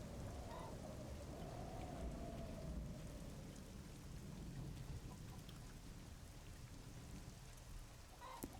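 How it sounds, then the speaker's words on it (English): A Call of Duty 4 storm map sounds with steady heavy rain and rolling low thunder, a dense continuous downpour with a faint rumble, quiet overall and with no talk. "They seem to be doing okay, considering the storm raging just outside of their coop."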